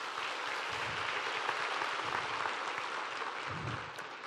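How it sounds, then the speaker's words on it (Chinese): An audience in a hall at a corporate leadership training conference gives sustained applause, a faint, even wash of many hands clapping heard from a distance. "真的需要给你们自己本身的一个掌声。"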